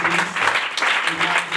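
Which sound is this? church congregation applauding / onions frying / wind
church congregation applauding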